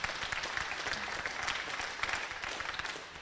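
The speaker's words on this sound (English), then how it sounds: "let's give everyone, including your show management, your 4-H, your FFA advisors, and these great kids, a big round of applause" A crowd at a state fair FFA and 4-H livestock show gives a big, steady round of applause, dense and even from start to finish with no break.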